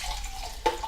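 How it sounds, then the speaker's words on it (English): Water from a can pours briefly into a soup pot of chili and chicken soup on the stove, a short close splash over a low hum. "I'm going to add a little bit more water, I think."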